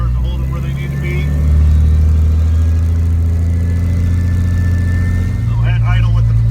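A supercharged engine in a Ford Thunderbird SC runs loud and close, a heavy droning roar that swells and holds at high revs with a supercharger whine over it, pulling from a roll in third gear.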